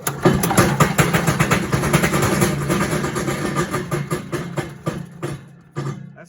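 A Little Wonder 13HP high-output blower engine runs roughly with a rapid rhythmic knocking as something strikes the fan, loud and close, then briefly cuts out and surges back near the end.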